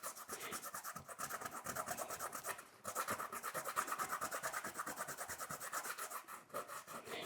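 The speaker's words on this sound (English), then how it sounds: "So that's rubbing the latex or the rubber where I had painted it on." Dried latex masking fluid is rubbed off a painting with bare fingers, making a continuous, close, fine scratchy rubbing that keeps a steady back-and-forth rhythm, with one brief pause partway through.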